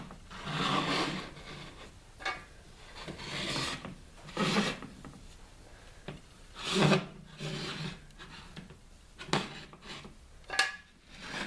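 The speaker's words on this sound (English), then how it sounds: "I'm going to take a clean towel, just wipe the rims." Clean towel wiping the rims of canning jars for dried beans, a series of soft rubbing and scraping strokes in irregular bursts, close and fairly quiet with no talking.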